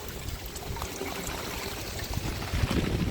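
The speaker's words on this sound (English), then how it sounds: "So you guys can see all the water's running down." Rainwater from a neighbor's gutter downspout runs across a yard next to a gate, a steady broadband trickle and gush that swells slightly near the end, with no talk.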